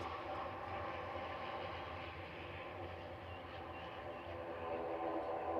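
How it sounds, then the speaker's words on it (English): A Boeing 787-8 Dreamliner taxis at Manchester Airport, heard as a steady, distant engine rumble and hum that holds evenly throughout without breaks. "So we got a 787-8 Dreamliner just taxiing out, heading off to Dalaman."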